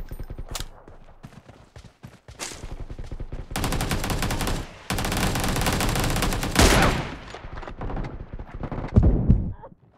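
Sniper rifle shots from an M24 in the mobile battle royale game PUBG Mobile: a few sharp, loud reports with bursts of rapid gunfire in between, set against game effects and background sound.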